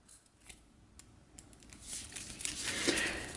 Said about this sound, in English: So we'll give this a shuffle.